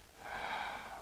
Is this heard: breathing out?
yes